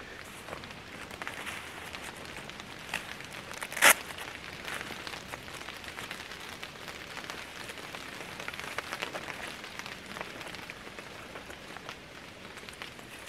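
Rain falls steadily in a wet forest, a dense, even patter of drops on leaves and ground, close and continuous, with one brief sharper sound partway through.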